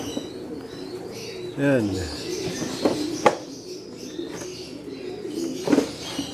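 Racing pigeons in a loft coo in low, rolling calls and flap their wings in short bursts, close by, while someone talks over them.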